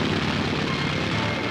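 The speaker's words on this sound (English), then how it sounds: "Long-range United States bombers and carrier-borne fighters race in to refuel" Long-range US bombers and carrier-borne fighters from 1942 fly over, a dense, loud droning roar of piston aircraft engines that holds steady for a brief stretch, with no voices.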